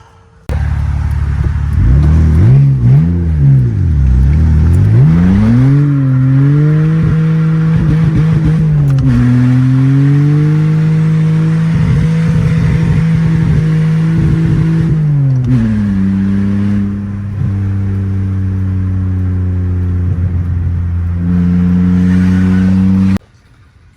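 BMW E46 car on a test drive after a new clutch kit and transmission mount, engine droning steadily and loud with rising and falling revs through gear changes, alone without talk.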